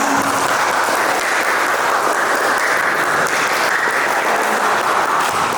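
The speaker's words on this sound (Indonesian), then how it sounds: "beri tepuk tangan untuk kalian semua" A classroom of students applauds, a steady, dense wash of clapping held at an even volume throughout, close and loud.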